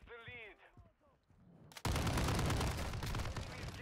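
Hip-fire gunfire in Call of Duty: Modern Warfare II bursts in as loud, rapid automatic shots after a short stretch of quiet game sounds, the firing continuing as a dense rattle to the end.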